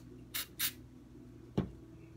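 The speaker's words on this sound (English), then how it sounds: "spray this down right here first." Two quick hissing bursts of gun cleaner sprayed onto a Glock 42 close by, followed a moment later by a short sharp knock, in an otherwise quiet room.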